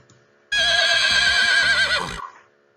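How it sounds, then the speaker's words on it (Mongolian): A horse neighs loudly once, a long shrill whinny that rises and wavers before trailing off, up close. "Янцгаасан, зүйтэй морь янцгаасан"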